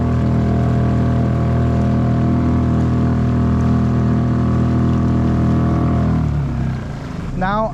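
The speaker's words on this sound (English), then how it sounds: "I'm gonna pass by that camera with just the motor on the back." Fishing kayak driven by a single rear-mounted motor passing close by, a loud steady droning hum with strong harmonic tones that fades and shifts pitch near the end as it goes past.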